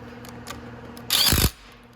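A nut is spun onto the variator of a Venom X18 50cc automatic motorcycle during a drive belt change, giving a short burst of close, loud ratcheting clicks after a few faint taps.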